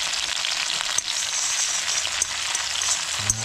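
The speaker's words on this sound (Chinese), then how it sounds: "把它炒一下，煸一下。" Doubanjiang bean paste stir-fries in hot oil, a dense, continuous sizzle close by with faint clicks of stirring and no voices.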